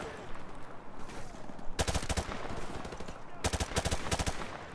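Automatic gunfire in Modern Warfare Remastered, a loud rapid burst near 2 seconds and another near the end, with softer background game ambience in between.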